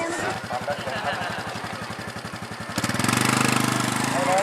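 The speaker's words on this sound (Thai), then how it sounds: "สังเกตฟังเสียงเครื่องยนต์ดีนะครับ" A motorcycle engine runs steadily at idle with a rapid pulsing rhythm, then the revs rise and hold at a higher pitch, close and loud. Someone speaks over the engine.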